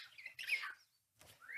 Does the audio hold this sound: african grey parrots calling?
yes